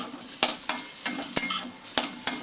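Potatoes coated in sambar powder with chilli, coriander, pepper and cumin sautéed in a pan, a soft sizzle under sharp spoon scrapes and clacks repeating at a brisk, uneven pace.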